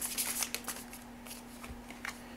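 Cozy Witch Tarot cards being shuffled close up, a quiet crisp riffling and fluttering of card stock in several soft bursts, with a steady faint hum underneath and no talking.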